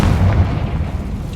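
A Confringo spell blasts in the Hogwarts Legacy video game, a heavy, rumbling low boom close and loud, fading slowly over about a second with no talk.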